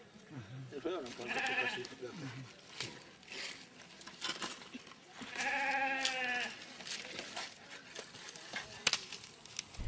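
Goats in a village in Benin let out two long, wavering bleats several seconds apart, loud and close, with rustling and pattering in between.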